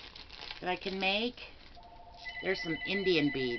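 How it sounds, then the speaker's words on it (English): A telephone rings indoors in repeated electronic ringtone bursts, heard partly under someone talking nearby. "Oh, got a phone call."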